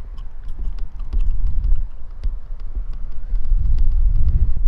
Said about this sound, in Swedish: Sluta blåsa förbannat. Äckliga vindhelvete.